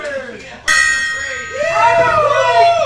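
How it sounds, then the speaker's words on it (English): A gong is struck with a loud metallic ring and a long shimmering tail of overtones that swells and sustains, ringing over background crowd noise in a tiki bar. "if you hear the gong sound"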